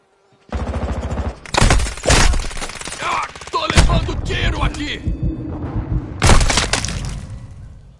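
Loud, close gunfire from Call of Duty Modern Warfare 2 multiplayer: dense bursts and volleys of shots that repeat throughout, with sharp cracks and heavy booming impacts packed together.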